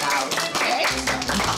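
Children clapping at a party before a contest begins, a brief burst of hand claps mixed with a voice talking over them.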